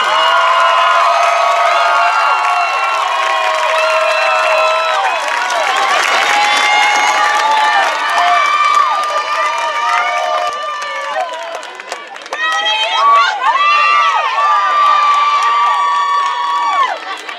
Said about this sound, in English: Let's have a round of applause for row